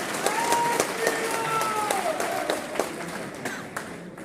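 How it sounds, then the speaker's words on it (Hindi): An audience at the opening of the Gwalior trade fair applauds to welcome the chief minister, with steady clapping under a lively crowd and brief whistles and calls cutting through. "तालियों की गड़गड़ाहट से उनका स्वागत किया जाए।"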